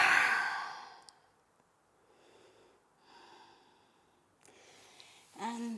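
A deep, audible exhale in a yoga forward fold opens close and clear, followed by softer, quieter breaths in slow succession.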